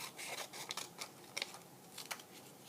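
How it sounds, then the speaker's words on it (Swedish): Scissors cutting across a paper strip in a slow, steady run of soft, close snips and rasps, fairly faint and without talk. "Där ska jag klippa av så rakt jag bara kan"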